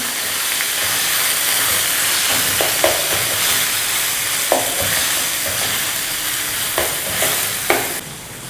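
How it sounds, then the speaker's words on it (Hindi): Chicken malai boti fries in hot oil in a pan with a constant close sizzle, while a spoon stirs it and scrapes the pan in several sharp knocks. "ये मलाई बोटी शामिल कर देंगे जो हमने मिला के रखा हुआ था।"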